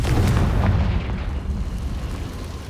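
A Confringo fire spell explodes in the Hogwarts Legacy video game: a loud, deep boom at the start that rumbles and fades over a couple of seconds.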